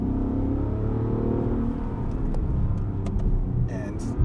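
A 2017 Bentley Continental GT Speed Convertible Black Edition with automatic transmission accelerates, giving a steady low engine rumble heard from inside the car for a few seconds.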